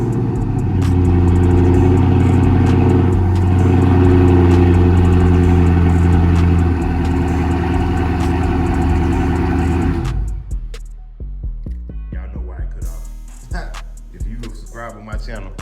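A car engine idles at a steady, loud rumble for about ten seconds after being started, then cuts off, leaving quieter clatter and scattered sounds.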